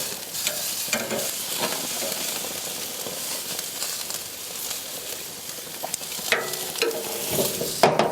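Pork loin sizzles on a grill while being cooked with grill marks, giving a steady close crackle broken by a few sharper scrapes and clicks.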